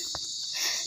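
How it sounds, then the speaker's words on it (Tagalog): Crickets chirp at night in a steady, shrill trill throughout, with a faint soft knock near the start. "May kuliglig na ulit guys."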